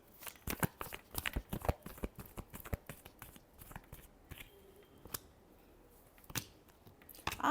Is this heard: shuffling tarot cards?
yes